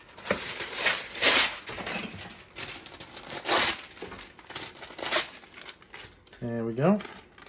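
Greaseproof paper used for steaming gyoza and bao buns is torn and crumpled in repeated crinkly bursts, with a person speaking over the rustling.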